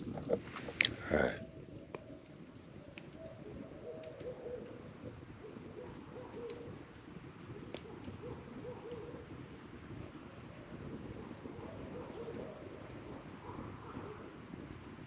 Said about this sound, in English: Yeah, they sound like birds.